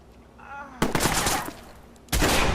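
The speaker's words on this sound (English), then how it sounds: "Shots fired! Shots fired!" Gunfire erupts in the video game Watch Dogs, two loud bursts of rapid shots close by, the first lasting over a second and the second starting near the end, after a brief moment of voices.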